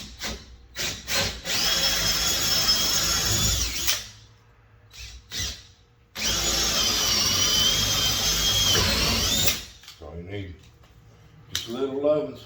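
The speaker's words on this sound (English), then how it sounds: "We just got to drill it in the center where the striker's going to go." A power drill bores a striker hole in an interior door, whining loudly in two long bursts separated by short starts and stops, with brief speech in between.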